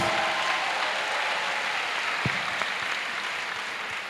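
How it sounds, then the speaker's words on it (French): A church congregation at a salvation and healing service in Port-Bouët applauds steadily, a dense, even wash of many hands clapping that fades slightly toward the end. "Yes, clap if you want."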